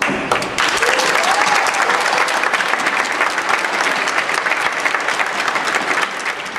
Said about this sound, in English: Let's give the families a round of applause.